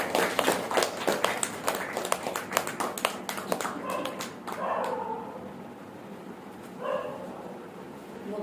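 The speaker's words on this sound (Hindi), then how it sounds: "आप सब तालियों के द्वारा अलका बहन को स्वागत करेंगे।" An audience at a spiritual gathering in Siliguri claps to welcome a speaker; the applause starts dense and sharp, then thins into scattered claps and fades out after about five seconds.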